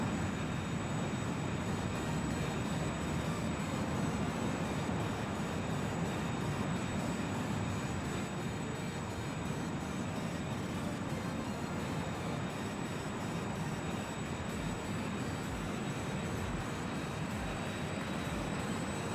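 A Learjet 35 taxiing in Microsoft Flight Simulator 2024, a steady jet engine whine and rumble heard from inside, continuous and even with a constant high tone, no talk.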